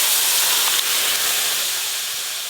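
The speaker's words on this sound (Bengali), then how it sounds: "এবার আমি ডালটা ছকে দেব।" Loud, steady sizzling hiss of dal poured into hot tempering oil with softened onion, turmeric and melted tomato, a continuous close hiss throughout.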